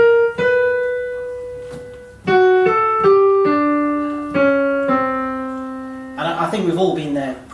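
A beginner picks out a slow tune on a Yamaha CVP709 digital piano, single halting notes with pauses between them, ending in a brief burst of louder, busier sound.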